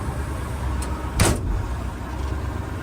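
A harvest truck's sticky door handle is worked and the door pops open with one sharp latch clunk and rattle at the midpoint, over a steady low engine rumble, close up with no talk.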